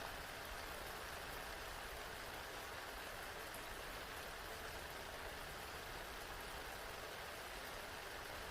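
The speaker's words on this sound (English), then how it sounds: "woke to the sound of rain" Steady, dense rain hiss with no breaks, a constant wash of falling water and no voices.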